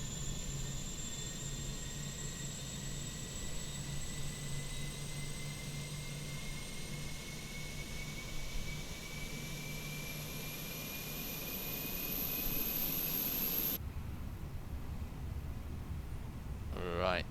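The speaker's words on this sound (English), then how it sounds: "You can hear the APU generator spooling up there." Auxiliary power unit generator on an Airbus A320 spooling up in a flight simulator: a steady loud whine with tones rising slowly for about fourteen seconds over broad engine roar, then cutting to a quieter hum.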